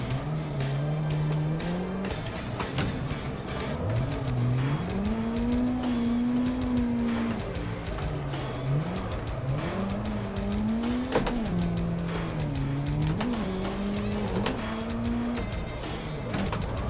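A drifting car in the Assetto Corsa sim racing game, its engine rising and falling in pitch through repeated revs and gear changes, with intermittent tire squeal, steady and up close throughout.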